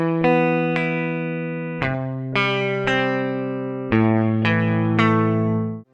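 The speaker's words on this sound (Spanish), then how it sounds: "si tocamos algo vamos a escuchar el sonido original de la guitarra." Unprocessed electric guitar played through the Neural Amp Modeler plugin with no amp model loaded, clean sustained chords and notes struck about every half second to two seconds, each ringing and decaying, close and clear, with no voices.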